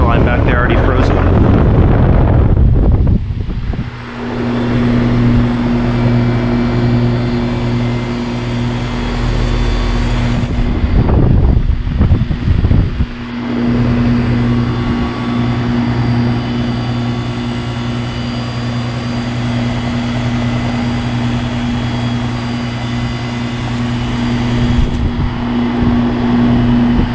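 A Goodman GSH13 heat pump starts up in heat mode with a loud rushing surge, then settles into a steady droning compressor hum and fan whoosh that swells at intervals, while someone talks near the unit.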